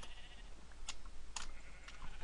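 Sheep bleating in Minecraft, a few short synthetic bleats spaced across a quiet, low-level game soundscape with no talk.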